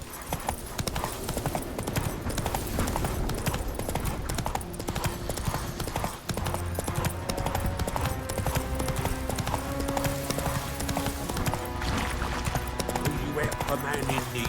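Geralt's horse Roach gallops in The Witcher 3, its steady clip-clop hoofbeats running continuously under a bed of orchestral game music and ambient sound at an even, moderate loudness throughout.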